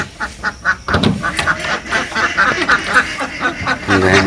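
Ducks quack repeatedly and loudly up close, a busy rhythmic chorus of calls with some scuffling noise in between.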